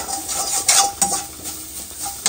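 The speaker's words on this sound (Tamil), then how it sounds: "நல்லா தேங்காய் வாசனை வர வரைக்கும் வறுத்துக்கலாம்." Grated coconut is dry-roasted in a pan and stirred with a utensil, giving scraping strokes and light clinks against the metal at close range over a faint sizzle.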